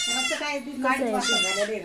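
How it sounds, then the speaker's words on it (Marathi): A one-day-old goat kid bleats in thin, wavering cries, two or three calls close up and fairly loud. "हे पहा एक दिवसाचं पिल्लू पहा शेळीचं पिल्लू"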